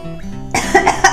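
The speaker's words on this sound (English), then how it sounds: "Oh, that made me cough." A single sharp cough, loud and close, bursts out after a moment of low background hum.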